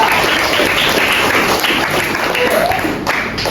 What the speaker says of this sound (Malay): Okey, bagi tepuk tangan kepada kita.